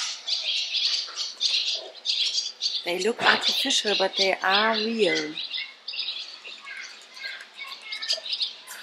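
Many small birds chirp and squawk continuously in Analipsi town center on Crete, a busy chatter of calls near and far. A person talks briefly midway over the birdsong.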